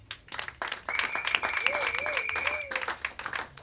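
A church congregation applauds and cheers in acclaim of Jesus, a steady wash of clapping with a sustained tone and a voice rising over it.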